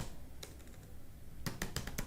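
Typing Java code on a computer keyboard: a single keystroke, a pause, then a quick close burst of several clicking key taps.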